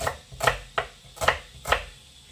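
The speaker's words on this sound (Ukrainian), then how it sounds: "Сюди ж нарізаю цибулю." An onion sliced with a knife on a cutting board: five distinct, evenly spaced chops, close and crisp, with no talk.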